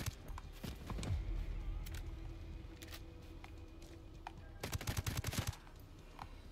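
Gunfire in Ghost Recon Breakpoint: scattered single shots early on, then a rapid burst of automatic fire near the end, moderately faint and distant-sounding over low background rumble.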